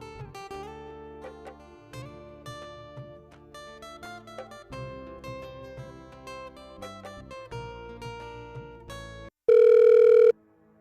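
A telephone call being placed in a Bangla drama: background music plays, then a single loud, steady ringback tone sounds for about a second near the end.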